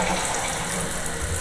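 A Kohler toilet tank refilling after a flush, with a steady broadband hiss and rush of water running continuously and close, and no voices.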